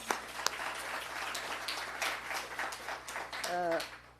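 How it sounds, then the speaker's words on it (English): Conference audience applauding to welcome a guest, a soft, somewhat distant wash of clapping with a couple of sharper claps near the start and a brief voice near the end. "The applause, please."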